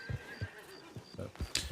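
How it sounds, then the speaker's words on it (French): Agitated horses whinny in a high, wavering call while low hoof thuds and stamps strike in an uneven rhythm, fairly faint and at a middle distance. "Ils sont énervés, les chevaux là-bas."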